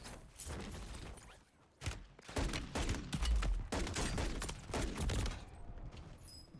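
Rapid bursts of automatic weapon fire in the shooter game Warzone 3, loud and close, with dense overlapping shots, a short lull, then sustained heavy firing tapering off near the end.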